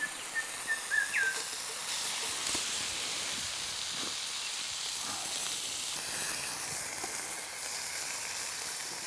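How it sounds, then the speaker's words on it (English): Bacon fries in a pan over a campfire outdoors, giving a steady close hiss and crackle with small pops near the start, and no one speaks over it. "Oh, listen to that sizzling away."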